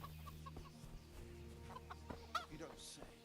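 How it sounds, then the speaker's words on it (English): Chicken clucking in the medieval game Kingdom Come: Deliverance, a few short clucks over busy in-game background noise and low hum, with a brief louder accent partway through. "Oh, glitchy chicken."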